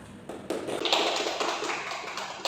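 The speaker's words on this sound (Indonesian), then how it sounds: "Mari kita beri aplaus kepada Anda yang telah menjawab." A short burst of applause in a classroom, with a dense patter of clapping hands that rises quickly and continues briefly at moderate loudness.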